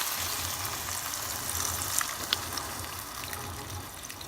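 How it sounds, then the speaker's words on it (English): Chicken broth pours into a pan of Cajun chicken pasta, giving a faint, continuous liquid gush with a few small splashes near the middle, heard alone without talk. "your chicken broth and dump in the whole thing"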